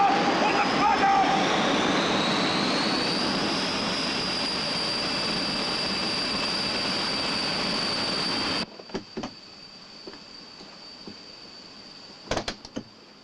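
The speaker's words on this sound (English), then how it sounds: "jet blast is a particularly nasty problem" A jet engine blasts at RAF Marham, home of 27 Squadron, in 1989. A loud, continuous roaring rush carries a rising high whine, then cuts off abruptly after about eight seconds, leaving faint scattered knocks and rustles.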